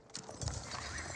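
Ghazi Raider cavalry horses from Age of Empires give a brief burst of hoof clip-clop with a faint whinny, quiet and short.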